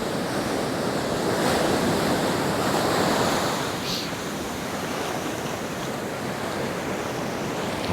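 Surf washing onto a Benidorm beach in Spain while someone paddles in the shallows, a steady broadband wash of breaking waves with light wind buffeting the microphone, continuous and fairly close throughout.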